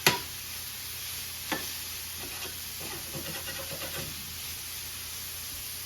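Sausage meat is broken up and browned in a frying pan, giving a steady soft sizzle with occasional scraping and stirring clicks from a utensil against the pan, fairly quiet and with no talking.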